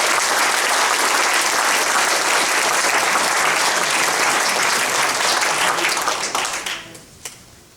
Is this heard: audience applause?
yes